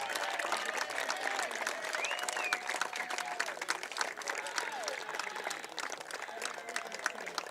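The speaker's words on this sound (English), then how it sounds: "Another round of applause for our senior outfielders." A crowd at a senior night high school baseball game applauds steadily for the senior outfielders, dense sustained clapping with cheering and chatter blended in.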